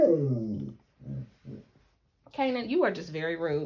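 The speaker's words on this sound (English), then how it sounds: "Sorry, that was my dog." A dog behind someone at a desk gives short whimpering and growling vocalizations in several brief bursts, then a longer whiny yelp. A person talks over part of it.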